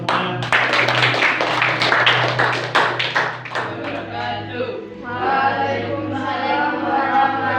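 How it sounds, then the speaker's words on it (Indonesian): Group applause at a teacher-training learning session, a dense burst of many hands clapping close and loud for a few seconds, then giving way to talk over a steady low hum. "tepuk tangan buat kita semuanya"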